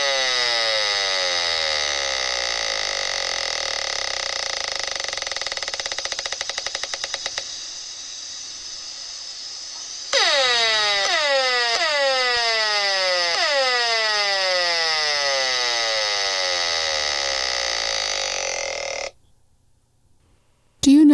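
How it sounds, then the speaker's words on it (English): Simulated smart meter EMF radiation rendered as a harsh, loud electronic drone, broken midway by a burst of repeated falling sweeps, then cutting out abruptly near the end. "If we could hear this radiation, this is what it would sound like."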